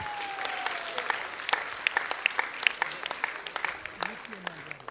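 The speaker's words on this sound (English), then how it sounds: "So let's give them a huge round of applause." Audience applause for a team of women presenting special cake displays at a Radhashtami temple celebration, a steady wash of clapping with scattered sharper claps throughout, moderately distant, with a voice briefly audible early on.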